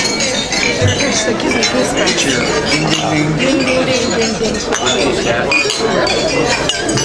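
Glasses clink together repeatedly during a toast at a reunion gathering, with cheering and lively crowd chatter underneath.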